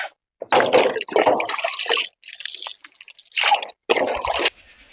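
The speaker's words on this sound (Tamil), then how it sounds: "இந்த ஸ்ப்ரே வடிவில் தண்ணி ஊற்றுங்க" Water is sprayed onto brinjal plants just after fertilizer is applied, coming in short, close, splashy bursts separated by brief pauses.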